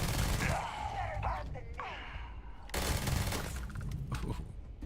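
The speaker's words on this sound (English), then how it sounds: "these mag shear guns are cool" Mag shear guns fire in a video game as a dense burst of shots, broken by a brief lull and then resuming loudly, with gasps and sighs from a player mixed in.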